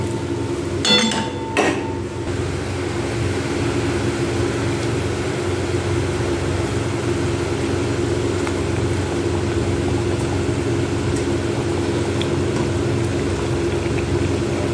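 Rui fish curry gravy with onion boils steadily in a pan, giving a continuous close bubbling hiss, with a few brief utensil clinks near the start.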